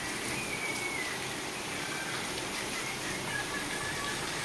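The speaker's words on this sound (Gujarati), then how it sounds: "તો ચાલો તમને બધાને બતાવું કે વરસાદ કેવો આવે છે." Steady monsoon rain falls on a morning outdoors, making an even, continuous patter and hiss with no breaks.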